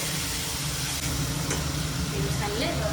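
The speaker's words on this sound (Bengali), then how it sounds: "কিছুটা কষানো হওয়ার পরে এই যে জল দেওয়া হলো" Water is poured into a curry that has been sautéed in a pan, giving a steady loud sizzle and bubbling hiss with stirring, faint background noise throughout.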